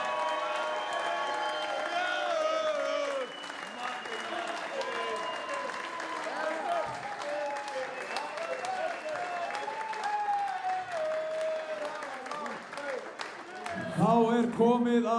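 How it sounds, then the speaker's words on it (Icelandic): Applause and cheering from a crowd at a darts final night in Akureyri, steady clapping with some whoops running throughout and a voice speaking over it near the end. "Gefum honum gott klapp"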